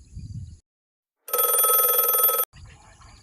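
A telephone rings once with a bright, continuous electronic trill lasting about a second, loud and clear, set between short bursts of low background noise.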